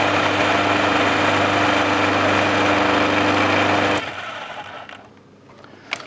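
A food processor whirs loudly and steadily while blending garlic for Lebanese toum, then cuts off abruptly, leaving quiet handling sounds and a small knock.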